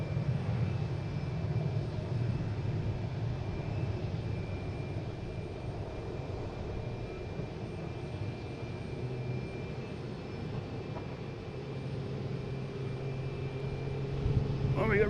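A JetBlue Airbus A321 airliner at Boston Logan airport produces a steady, moderately distant engine rumble and whine that holds for the whole stretch, with faint background noise.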